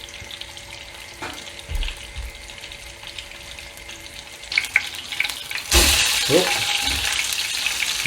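Lightly dusted, seasoned gurnard fillets fry in olive oil, giving a steady close sizzle that swells louder after a few seconds, with brief speech and some clatter and water sounds mixed in.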